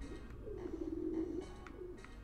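Pigeon cooing in the video game Jazzpunk: a soft, throaty coo rolling for about a second, moderately quiet against a low background hum, with no talk.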